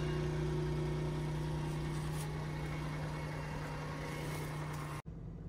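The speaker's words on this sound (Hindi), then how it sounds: "गाड़ी कर दिए तो अब हमने स्टार्ट, थोड़ी देर कोल्ड स्टार्ट की जरूरत इसको है नहीं" A car engine idles shortly after starting on a sunny mountain-road outing, a steady low hum with constant vibration that runs evenly without talk and cuts off abruptly near the end.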